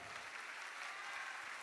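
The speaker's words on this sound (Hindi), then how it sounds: "जोरदार ताली बजाइए।" An audience at a Bageshwar Dham religious question-and-answer gathering gives a brief, faint burst of steady applause with no talking over it.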